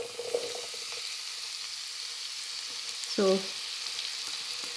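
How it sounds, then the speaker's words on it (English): Food sizzles steadily in a hot pot over a wood fire while Hungarian sauce is being made. There is a constant hiss with a brief close voice partway through. "Yeah, it starts to sizzle."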